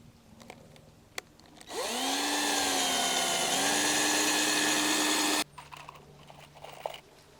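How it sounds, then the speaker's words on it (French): Power screwdriver or drill driving 60 mm screws into a pallet-wood planter, one steady loud whirring run of about four seconds with a pitch shift midway, set against quiet workshop background. "Et ensuite on va aller visser ça."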